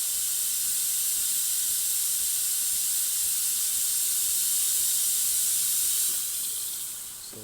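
A Breville Infuser espresso machine runs after a full service, giving a steady loud hissing spray of steam and water that eases off at the end.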